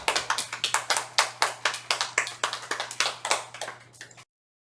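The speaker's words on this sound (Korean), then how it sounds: "우리 하나님께 영광의 박수 올려드리겠습니다." Church congregation at a Sunday service clapping in a brisk, regular rhythm, each clap sharp and distinct, keeping time for about four seconds before stopping abruptly, with a faint steady hum underneath.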